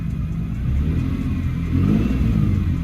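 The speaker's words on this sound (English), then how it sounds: "I'm doing baby revs" A Lexus SC300 engine idles with a steady low rumble and gently rises in pitch during light revving, close and continuous, no voices.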